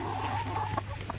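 Chickens clucking softly in a group, a steady low murmur of fowl sounds with a couple of brief louder clucks, no voices.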